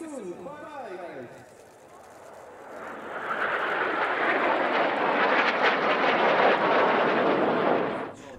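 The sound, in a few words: airshow display team aircraft flying the finale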